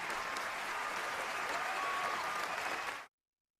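Applause from a crowd honoring Masood bhai at a gathering, steady, dense clapping at moderate level for about three seconds, then cutting off abruptly into silence.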